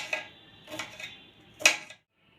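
Knife chopping cucumber into small pieces on a board, heard as three or four quiet, separate knocks spread over two seconds and followed by silence.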